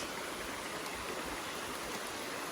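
Stream water rushes steadily near a waterfall along a hillside walking route, a dense continuous broadband wash with no voices, close and even throughout.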